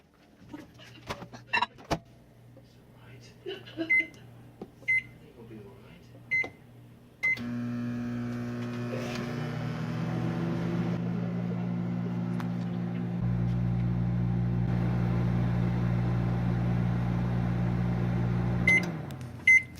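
Several beeps and clicks as buttons are pressed, then a microwave oven hums steadily while cooking a mug cake, its drone deepening partway through, ending with a beep.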